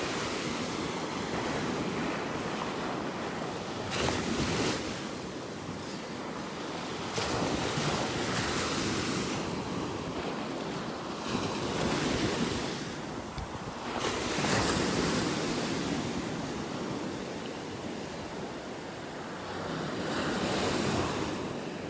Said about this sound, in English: Let you listen to these waves for a minute here.